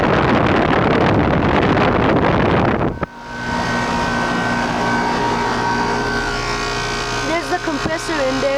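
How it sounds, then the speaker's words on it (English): A York LX series heat pump unit runs outdoors with a steady mechanical hum and fan drone. It follows a loud burst of wind noise on the microphone during the first three seconds. "I think that noise actually comes from the York"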